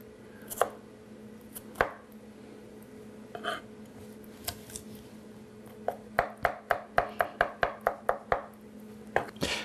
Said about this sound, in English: Easiest way of the garlic is just to chop it a little bit.